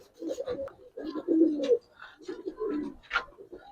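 Giribaz pigeons in a loft coo nearby in repeated deep, throaty bursts separated by brief gaps, with a few sharper chirps mixed in.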